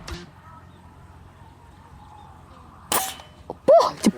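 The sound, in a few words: air rifle shot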